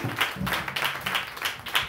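Church congregation applauding during a Sunday worship service, a steady wash of clapping with pulsing bursts, moderately loud and with no voices over it.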